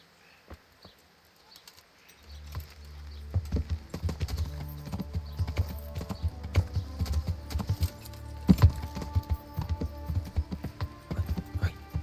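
Horse hooves clip-clop in the video game Kingdom Come: Deliverance, a quiet start giving way to a steady walking rhythm of hoofbeats over a low rumble, with brief louder hits and faint ambient sounds.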